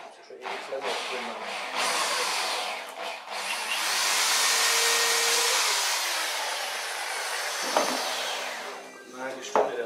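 A drill pre-drills 2 mm holes in thin wood strips for 3.5 mm wood screws in a home workshop, a steady whirring run of several seconds between brief starts and stops, close and fairly loud.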